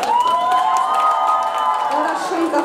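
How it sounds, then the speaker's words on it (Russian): An audience at a stage event cheers and claps to welcome a performer, with shouting voices and clapping blended into a loud, steady roar lasting a few seconds. "Хорошенько хлопаем, молодцы, молодцы."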